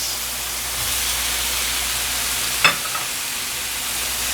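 Tomatoes hitting a hot pan with pork and soy sauce while cooking a traditional Chinese cauliflower dish, a broad steady frying hiss with one brief sharp clack midway, no talking.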